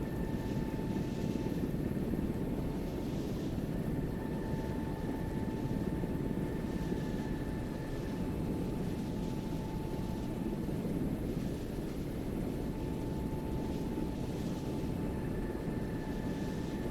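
A helicopter lifting off and departing in a military flight simulation game: a steady, loud rotor and engine drone with a constant whine that holds throughout and does not change.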